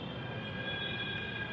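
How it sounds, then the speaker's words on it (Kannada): A Bangalore metro train arrives at a station, a low steady rolling rumble with a faint high whine, heard on its own. "ಮೆಟ್ರೋ ಬಂತು."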